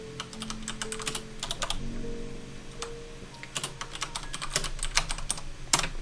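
Keys clatter on a computer keyboard in quick irregular bursts as a layer name gets typed, close and crisp, with short pauses between runs of keystrokes and a faint steady hum underneath.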